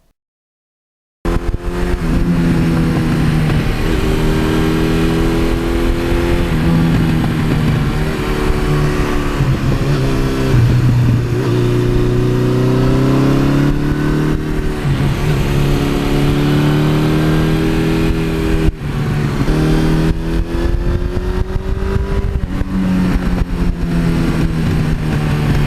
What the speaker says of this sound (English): that exhaust has a nice little rumble